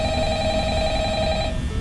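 Telephone ringing in the Five Nights at Freddy's video game, a steady electronic ring sustained for about a second and a half over a low rumbling background before cutting off.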